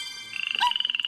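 A frog croaks in a quick, pulsing run of rhythmic calls, close and fairly loud, over a bright steady tonal background, with no speech.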